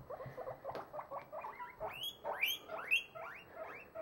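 A pet guinea pig whooping loudly with rising, repeated squeals in a quick series, preceded by softer chirping squeaks, close up in a quiet room.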